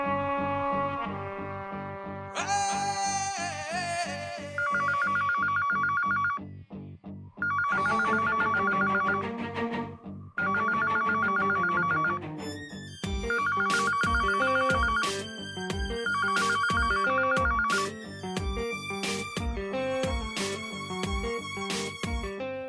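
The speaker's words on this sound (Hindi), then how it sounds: "मैडम फोन नहीं उठा रही, लगता है बिजी हैं।" A telephone bell rings unanswered in an office setting, its electronic trill repeating in regular bursts with short gaps, fairly loud and close, layered over a steady musical tone; no talk.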